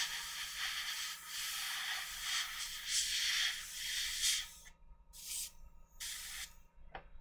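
An airbrush sprays a rust-coloured base coat on a miniature, giving a steady loud hiss in close bursts that cut out briefly near the end, with no talking.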